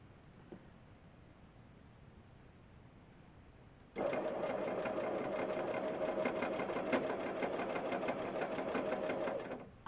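A sewing machine stitches fabric for a peg bag, starting after a few quiet seconds and then running steadily at close range with a fast, even mechanical whirr until it stops near the end.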